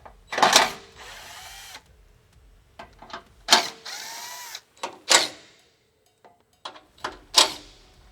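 Power tool with a 12mm socket removing bolts from a vehicle's plastic skid plate underneath, several short sharp bursts separated by pauses and small clicks, close and fairly quiet.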